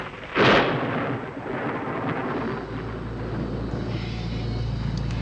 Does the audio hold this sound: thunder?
yes